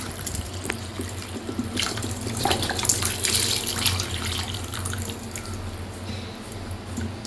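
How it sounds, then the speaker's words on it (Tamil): Water from a tap runs steadily into a pot, making a continuous splashing rush that stays close and fairly loud. There is no talk over it. "ஃபுல்லாக தண்ணி ஊற்றணும்."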